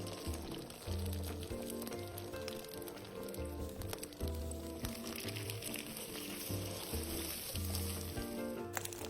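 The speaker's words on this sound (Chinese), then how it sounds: "油热后，再将生坯放入油炸，这时候记得将炉转至中低火。" Shrimp and chive wontons wrapped in tofu skin and dusted with cornstarch fry in a pot of hot oil over medium-low heat, giving a faint, steady sizzle that runs unbroken throughout.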